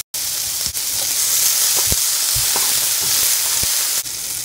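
Chopped tomatoes and onions sautéing in a pan for a Tamil lunch dish, a loud continuous sizzle with scattered sharp crackles and pops, close up and with no talking.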